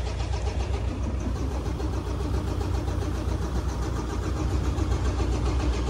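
A gas-powered truck engine turns over and runs at an outdoor truck auction after a jump-start from a booster vehicle, a steady mid-pitched rumble filling the whole stretch without pause.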